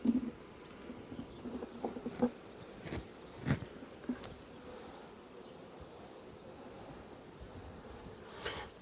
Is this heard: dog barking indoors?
no